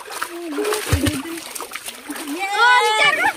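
Children splash and swim in shallow water, with repeated splashing and sloshing close by under excited kids' voices and shouting.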